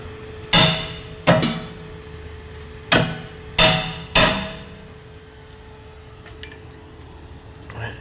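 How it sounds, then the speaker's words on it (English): Five sharp metallic hammer blows ring out, pounding a bushing out of a Cadillac air suspension; two come close together, then a pause, then three more in quick succession, each decaying quickly, followed by quiet shop ambience. "then you got to kind of pound this out"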